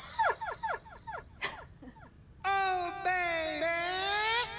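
Several quick high puppy yelps come in a row, then a long whining cry that wavers on for a couple of seconds, close and clear.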